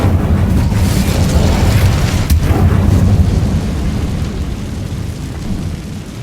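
Fiery Incendio spell blasts in Hogwarts Legacy, a dense, roaring rumble of flame and impact that stays loud and continuous throughout, with a brief sharper burst partway through.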